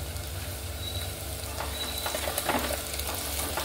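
Onions and green chillies frying in a pan for spicy Andhra mutton curry, a close, steady sizzle with occasional stirring scrapes and crackles, no talking.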